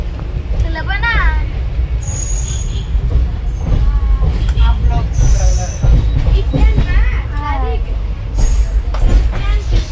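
Rumble and clatter of a moving train on a trip to Janakpur, Nepal, steady and loud with occasional wheel squeals, while people talk nearby over the noise.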